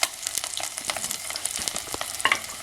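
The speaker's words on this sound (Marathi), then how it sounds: "कांदा टाकला तर कढीपत्ता पण टाकते." Onion and curry leaves fry in hot oil with a bright, crackling sizzle and scattered sharp pops, stirred throughout, close and steady with no voices.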